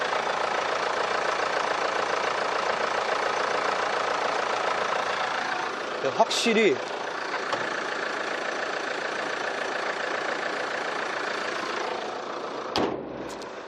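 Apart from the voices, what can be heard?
car engine idling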